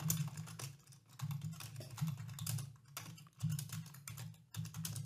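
Quick, light keystrokes on a computer keyboard while a prompt is typed, coming in short bursts with brief pauses, fairly quiet and close.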